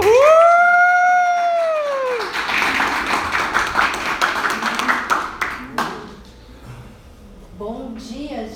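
An audience at a coaching talk gives a round of applause after a loud whoop. The clapping fills a few seconds, then fades as a speaker begins talking.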